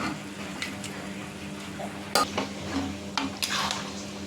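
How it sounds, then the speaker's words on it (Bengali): Boiled lentils and mutton tipped into a pan of spices for dal gosht, with a few sharp metallic clinks and scrapes of a utensil against the pan over a quiet kitchen background. "এই যে এবার আমি ডাল আর মাটনটা এইভাবে এর সাথে অ্যাড করে দিচ্ছি।"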